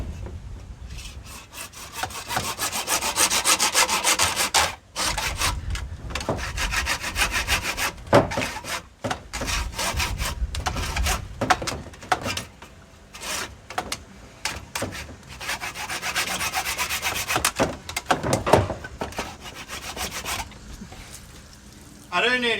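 Hand saw cutting through PVC reticulation pipe near buried sprinkler solenoids, with a steady rasping back-and-forth stroke rhythm broken by short pauses, close and fairly loud throughout.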